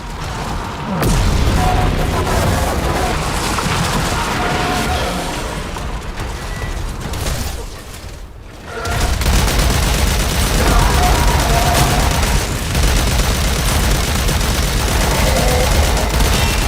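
Heavy cannon fire in the video game Warframe: a loud, dense barrage of booming blasts and rattling shots, breaking off briefly midway before resuming at full intensity.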